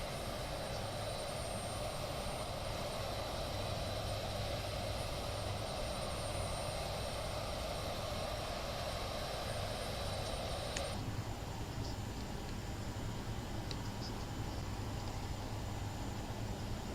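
Aircraft engines roar at takeoff power in a flight simulator on a 5,000-foot island runway, a loud, steady broadband drone that continues throughout and shifts slightly in tone partway through.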